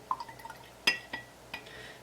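A large watercolor brush dabs and swishes in a water jar, giving a few small, close drips and clinks of liquid against glass, with quiet pauses between.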